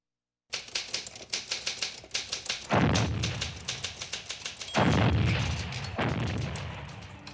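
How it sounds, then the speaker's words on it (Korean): In a Korean War radio drama, a typewriter clacks in quick bursts of keystrokes while heavy enemy artillery booms land nearby in deep, loud blasts that swell over the typing. "내가 기사의 마지막 부분을 타이핑하고 있을 때 적의 포가 우리를 겨냥하기 시작했다."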